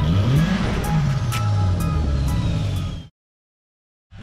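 A Nissan KA24DE engine idling and revving, a steady close mechanical drone with rising and falling pitch, cutting off abruptly to silence before briefly starting again at the end.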